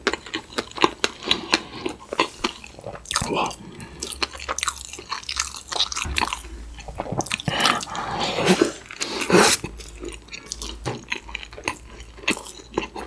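McDonald's burgers including a Big Mac, honey cream cheese Shanghai burger and double cheeseburger eaten up close for ASMR, with wet biting, crunching and chewing in quick irregular bursts, loud and intimate, with no talking.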